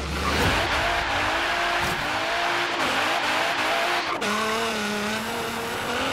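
A 1000HP, GTR-powered 1990 Renault Alpine GTA drag and wheelie car in Forza Horizon 3 revs hard and launches. Its engine roars loudly and continuously, pitch rising and dropping through the gear changes, with no talk.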